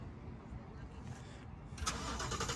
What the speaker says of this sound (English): So, hey, kid, start up your car.